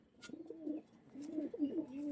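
Pigeon cooing from racing pigeons, two soft low rolling coo phrases close by, fairly quiet, with no talking.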